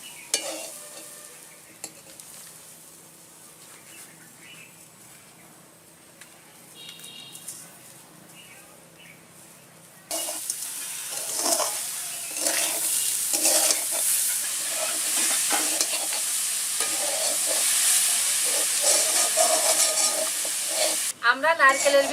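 Grated coconut and sugar frying in a pan while being stirred, for a mung puli pitha filling. Faint scraping gives way to a louder, steady sizzle with intermittent spoon strokes.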